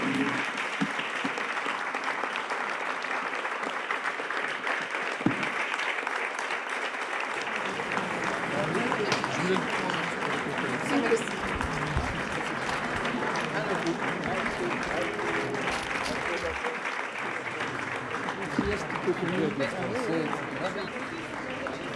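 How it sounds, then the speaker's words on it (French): Sustained audience applause fills a hall at a live talk by Boris Pahor at BOZAR in 2014, dense continuous clapping from a large crowd that stays even throughout, with a few voices faintly beneath. "on se lève tous ensemble et on applaudit les gens qui sont morts et qui ne sont pas là"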